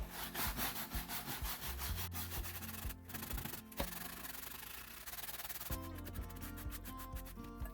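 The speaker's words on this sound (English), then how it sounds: "Actually, it's just a scrub brush." Stiff bristles of a scrub brush scrub an antique wooden rocking chair in rapid back-and-forth strokes, a continuous rasping rub with brief pauses, close and fairly quiet.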